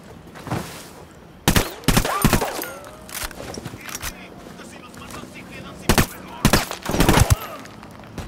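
Gunfire from the Ghost Recon Wildlands video game, with loud sharp bursts and single shots scattered across a firefight, some rapid strings of automatic fire, set over a low ambient backdrop with faint movement sounds.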